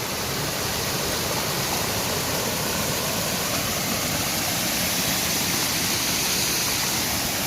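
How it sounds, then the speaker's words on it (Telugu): A steady, unbroken rush of a small waterfall in Gudem, ASR district, heard up close over rocks, broadband and constant throughout. "చాలా బాగుంది వాటర్ ఫాల్ అయితే చూడండి ఇదిగో"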